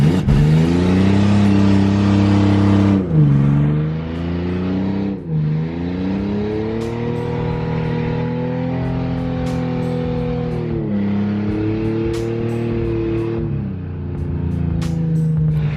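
A drift car engine revs hard and steadily on snow, its pitch climbing and dropping through repeated throttle swells and shifts, loud and close for a long stretch.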